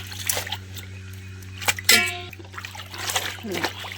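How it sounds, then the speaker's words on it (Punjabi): Kitchen towels are rinsed and swished in clean water, giving a few splashes and trickles that stand out over a low steady hum, with a voice talking in between. "ਹੁਣ ਆਪਾਂ ਦੋ ਤੋਂ ਤਿੰਨ ਵਾਰ ਇਹਨਾਂ ਨੂੰ ਸਾਫ਼ ਪਾਣੀ ਦੇ ਵਿੱਚ ਇਸੇ ਤਰੀਕੇ ਨਾਲ ਕੱਢ ਲਾਂਗੇ"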